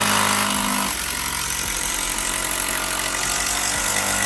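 A power drill bores into the frame of an IKEA cot being attached to a bed, a loud steady grinding whine that drops in pitch after the first second and runs on, rough and continuous.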